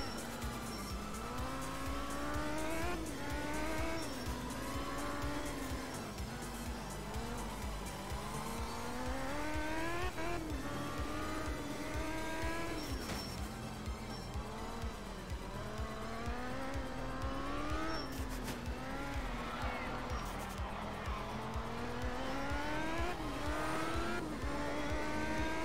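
A rally car in the Art of Rally game slides through corners, its engine revving up and dropping repeatedly with squealing tires and skids, loud and continuous over twenty-five seconds.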